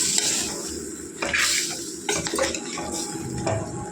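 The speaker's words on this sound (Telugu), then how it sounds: "బాగా కలపాలండి. అల్లం వెల్లిపాయ మొత్తం వేగేటట్టుగా, ముక్కలకు పట్టేటట్టుగా బాగా కలుపుకొని వేసుకోవాలి." Chicken pieces with fresh ginger-garlic paste stirred in a pan for a spinach chicken dish, with repeated scraping and clattering utensil strokes over a gentle sizzle, close and moderately loud, no voices.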